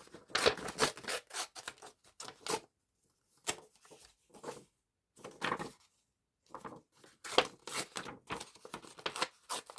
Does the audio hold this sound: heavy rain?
no